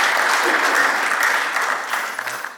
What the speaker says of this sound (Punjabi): ਇਹ ਸਾਰੇ ਕਲਾਕਾਰਾਂ ਵਾਸਤੇ ਤਾੜੀ ਲਾ ਦੋ